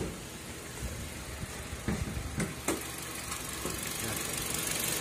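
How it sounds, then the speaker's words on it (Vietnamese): A Kia Rio's engine runs steadily at a moderate level with a broad, even hum, a few sharp clicks and knocks popping over it, and the engine noise swelling slightly toward the end. "Máy nổ."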